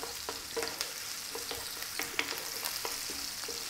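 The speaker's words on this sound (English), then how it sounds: "let's get in our onion. And as you can hear, we're on a fairly high heat" Steady crackling sizzle of onions frying in a hot pan, with occasional sharper pops and spatters over a constant hiss.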